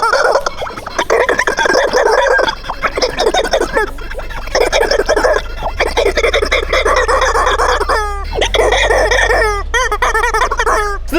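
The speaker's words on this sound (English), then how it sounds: "We have successfully made 8 screaming chickens go as loud as they possibly can at the same time" Eight chickens scream and squawk as loudly as they can all at once, a harsh, overlapping din of shrill clucks and crow-like cries that runs nonstop and close up.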